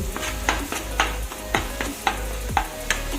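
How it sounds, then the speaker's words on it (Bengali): Onions sautéing in a pan with soft sizzling, stirred in steady scraping strokes about twice a second, close up and alone. "পেঁয়াজটা সুন্দর কষানো হয়ে গেছে"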